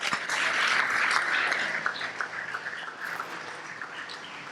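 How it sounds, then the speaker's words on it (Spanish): A church congregation applauding during a sermon, a burst of dense clapping that swells early and then thins and fades toward the end, with no speech over it. "démosle un aplauso al Señor"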